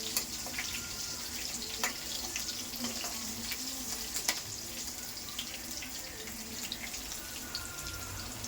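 Green chillies frying in a pan while a fried idly dish is prepared, a steady low sizzle with occasional sharp clicks and spatula taps, fairly faint and continuous with no talking.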